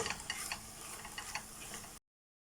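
Curd cheese being stirred into tomato paste in a bowl, with soft, irregular scraping and clicking strokes of the spoon close by, ending abruptly after about two seconds.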